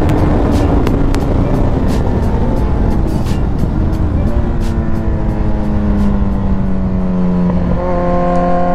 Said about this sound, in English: Was not expecting to hit the rev limiter there.